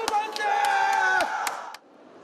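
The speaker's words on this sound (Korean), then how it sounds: "윤석열 대통령 파면이 결정되자 환호와 박수 소리가 터집니다" Citizens gathered before a TV in a train station waiting room erupt in cheers, whoops and scattered clapping as a presidential removal ruling is announced; loud crowd voices swell, then cut off and fade to a quieter murmur.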